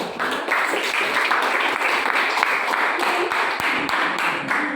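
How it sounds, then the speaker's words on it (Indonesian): A classroom group applauds after a student presentation, with steady, dense clapping from many hands that fills the whole stretch at moderate loudness and tapers slightly at the end. "Tepuk tangan"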